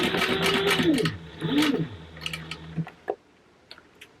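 A sewing machine stitches a fabric purse in quick, close bursts, pausing briefly, then a final run before it stops, followed by a few light clicks and taps of handling.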